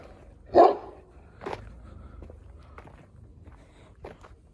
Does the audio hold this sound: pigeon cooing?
no